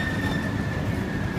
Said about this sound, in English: This entire trip we've been saying we want to go on a double-decker train, and now we finally are.